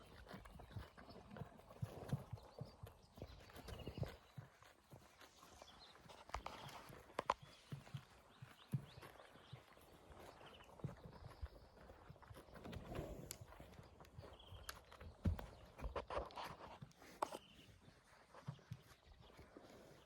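Hooves clip-clopping as mares walk, irregular thuds at close to middle distance over outdoor rustle, no clear speech.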